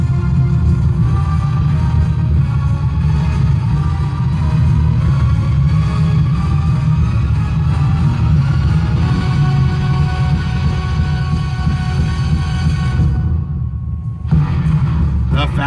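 Music booms from two 6-inch car door speakers, a loose 6x9 on the front seat and an 8-inch subwoofer in the back, a loud, dense bass-heavy rumble that drops out briefly near the end before resuming.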